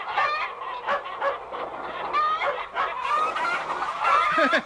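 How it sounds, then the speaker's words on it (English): Hens clucking and squawking close by, several birds calling over one another in a busy, continuous flurry. "Shooing the hens into the roost"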